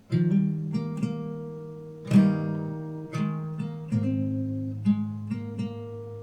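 A slow fingerstyle guitar line from a song, single plucked notes ringing into each other in an unhurried rhythm, clear and close with no voices.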